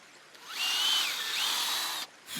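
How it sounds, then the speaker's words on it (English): A power drill bores holes into a tree trunk so plugs can be set for trunk injection against the invasive woolly adelgid. It gives a close, loud, steady high whine lasting about a second and a half, then stops. "So we have to drill some holes to set these plugs in"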